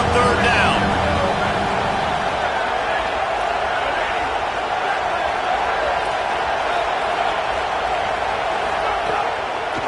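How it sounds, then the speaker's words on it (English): A stadium crowd at a Penn State at Ohio State college football game roars steadily for the defense on third down, a dense, loud, unbroken wall of cheering with a commentator's voice running over it. "Decibels rising as the crowd gets behind this defense on third down."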